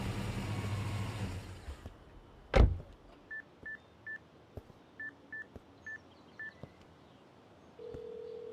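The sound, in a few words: telephone dialing tones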